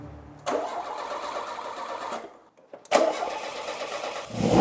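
Peugeot 205 GTI with a suspected stuck fuel pump, cranking without firing: two close, loud bursts of starter churn split by a brief pause, with no speech.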